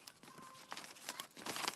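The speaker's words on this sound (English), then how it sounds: "I'm going to shuffle and pull a card and share that with you now" Moonology oracle card deck being shuffled by hand, giving soft, close papery riffles and crinkly flutters in quick irregular bursts, quiet overall with no talking.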